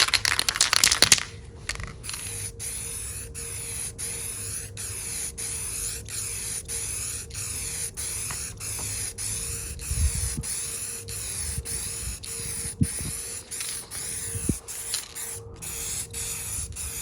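Water-based paint is sprayed outdoors onto trims for a 2006 Vauxhall Corsa C 1.0, a steady close hiss in repeated short bursts with faint mechanical clicks.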